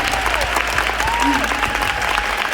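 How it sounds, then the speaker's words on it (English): An audience claps in a steady, loud burst of applause at a presentation, the dense clatter continuing throughout with faint voices mixed in. "Everyone give Ann and Annie a round of applause."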